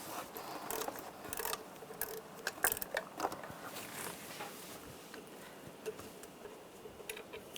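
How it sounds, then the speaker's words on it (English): A ratchet turning a 12mm socket loosens a bolt on the intake of a 1996-2002 Toyota 4Runner, giving faint irregular clicks and metallic ticks up close in a quiet garage. "Now take this bolt off. Use a 12mm socket."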